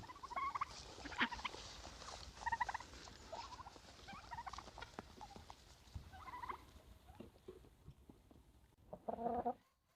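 Turkeys on an off-grid homestead gobble in several loud, rattling bursts spread across the span, with a final strong gobble near the end and quieter outdoor background between calls.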